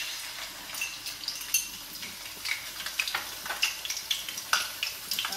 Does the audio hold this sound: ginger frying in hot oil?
yes